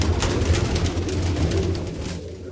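Pigeons cooing after a full feed, a steady close run of low, throaty coos repeating under continuous flutter and background noise, with no talking.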